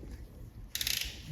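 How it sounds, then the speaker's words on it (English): A ratchet tightens the foot peg bolts on a BMW R1150GS motorcycle, a quick close burst of rapid clicks after a brief quiet moment. "I'm going to tighten the foot peg bolts."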